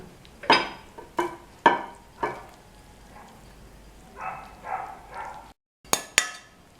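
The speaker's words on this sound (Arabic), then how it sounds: "باش ناخذ المقرونه وباش نصبها." Cooked macaroni being tipped from a pot into a dish for a quick zaara pasta bake: several sharp clinks of metal against dish, then softer sliding, scraping bursts of pasta, with no voice.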